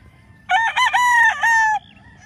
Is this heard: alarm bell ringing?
no